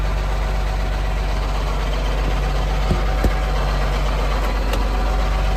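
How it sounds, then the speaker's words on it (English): A 1992 John Deere 4055 tractor engine idles close by, a steady, even diesel rumble with constant vibration and a couple of faint clicks partway through. "Maybe you can get a little more sound of the motor here."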